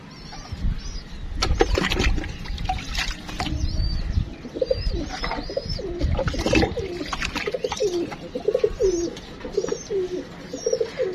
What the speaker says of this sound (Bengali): কবুতরের এই ডাকগুলো আমার কাছে এত ভালো লাগে